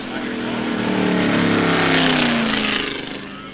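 Crazy Cuda drag car on a Plymouth-powered drag strip run roars past, a loud sustained engine howl that rises, holds and then fades slightly as it recedes.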